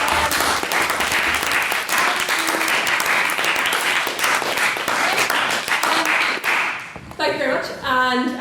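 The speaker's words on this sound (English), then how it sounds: "can I get a round of applause for the proposition?" A debate audience gives the winning proposition a loud, dense round of applause for about seven seconds, then it tapers off and a voice starts speaking.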